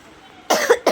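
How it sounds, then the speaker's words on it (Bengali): A child with a cold coughs close by, two harsh bursts in quick succession after a quiet moment. "বাবুর আমার দুইজনেরই ঠান্ডা কাশি"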